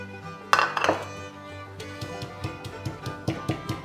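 White sesame seeds pounded in a mortar, starting with a loud clattering knock and then a run of steady, evenly spaced dull thuds, close and clear.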